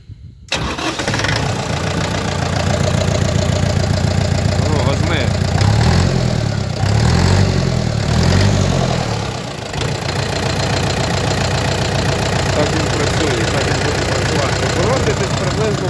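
A DTZ-5404 tractor's diesel engine cranks, catches and settles into a loud, steady idle with a knocking rumble. It runs alone throughout, with a brief dip in level partway through.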